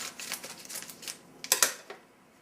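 A sealed dry bag is sliced open, a few crisp cutting and tearing crackles with sharp bursts near the end, close and fairly quiet.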